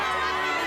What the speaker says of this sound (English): The whole town is cheering and thanking you for your cookies.